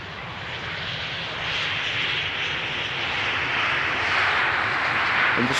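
An airliner arriving from Barcelona lands on runway 18R at Amsterdam Schiphol and applies its thrust reversers, making a broad, steady jet roar that swells gradually toward the end. No voices are heard.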